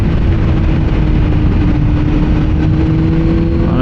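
Motorcycle engine held at high speed in fourth gear on the road, a loud constant drone with heavy wind rush and a steady low hum that barely changes across the few seconds.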